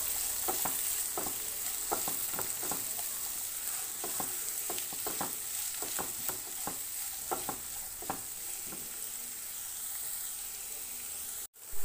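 Chopped onions sautéing in hot oil with cumin seeds in a pan, a constant bright sizzle with a regular series of spoon scrapes and stirs up close, ending in a brief bump; no talking.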